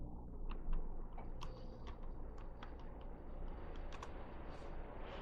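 Typing on a computer keyboard while creating a folder on a PC, heard as a steady run of light, close clicks and taps with no talk.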